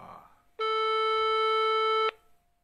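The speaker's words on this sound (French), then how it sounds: "C'est le téléphone de Chimène qui sonne." A phone ringing tone sounds while a call is placed to Chimène: one steady electronic tone held for about a second and a half, then silence, with faint background murmur before it.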